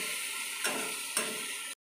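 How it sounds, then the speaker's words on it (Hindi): Potato masala frying in a pan, a steady bright sizzle held for under two seconds with two soft stirring scrapes, close and without talk, ending abruptly. "तो देखिए मेरा आलू मसाला सब अच्छे से भूज गया है, फ्राई हो गया है।"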